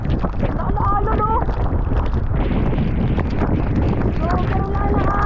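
Strong typhoon wind roars and buffets the microphone continuously, loud and close, while voices shout over it intermittently.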